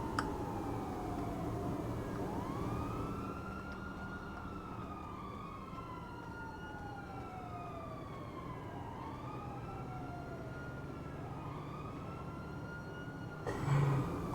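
A wailing police siren in GTA Online sweeps up and down repeatedly over a low engine hum, several overlapping cycles, fairly loud and steady.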